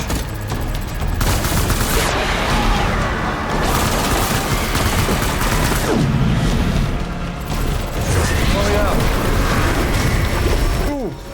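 Sustained assault rifle fire in the video game Death Stranding, dense, loud bursts running nearly the whole time with booms and game voices mixed in.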